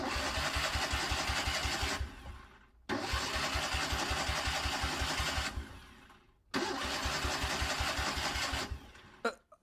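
A vehicle engine is cranked three times in a row and fails to catch each time, with a rapid pulsing starter churn in each burst and short pauses between, loud and close, in an animated scene.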